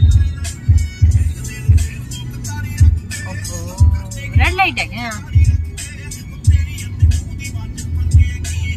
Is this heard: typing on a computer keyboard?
no